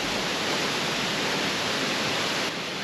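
A waterfall plunges into a rock pool in a mountain kloof, producing a dense, continuous rushing roar that stays steady and close throughout with no other sounds.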